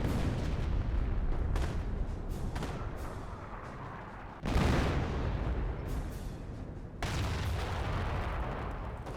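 Artillery barrage in the World War II strategy game Company of Heroes, with heavy booming shell impacts landing in a rapid series and two louder close blasts amid continuous rumbling gunfire.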